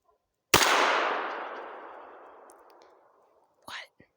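One loud, close revolver shot fired without hearing protection, its sharp crack trailing into a long echo, followed by a brief muffled voice near the end.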